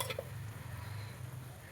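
Spices (red chilli powder, black masala, coriander powder and garam masala) stirred into a Kolhapuri misal curry in a pot, a soft continuous scraping with a faint sizzle underneath, close and quiet, no talking.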